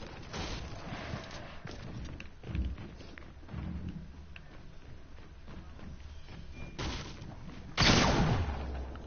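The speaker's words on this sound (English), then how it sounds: "Oh wow, just got shotgunned right in the face." A loud shotgun blast in Fortnite booms near the end, a heavy close burst that stands out from scattered gunfire and footsteps echoing around a building.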